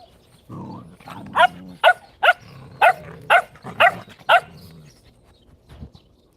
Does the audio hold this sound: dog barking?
yes